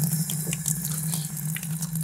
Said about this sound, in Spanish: Voy a ver si echamos un trago de agua.